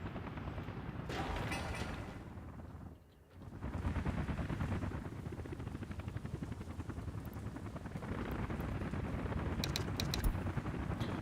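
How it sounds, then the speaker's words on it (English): Helicopters fly around a construction site in the city-building game Workers and Resources while an oil refinery is being built. A dense, steady whirring rumble runs throughout, briefly dipping before it swells back to full loudness. "You're going to hear a lot of helicopters flying around."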